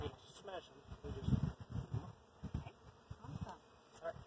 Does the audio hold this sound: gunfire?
no